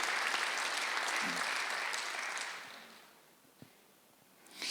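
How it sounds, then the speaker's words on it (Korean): A church congregation at a Sunday worship service bursts into loud, dense applause that holds for a couple of seconds, then fades to near quiet before a brief swell returns at the end. "박수 한번"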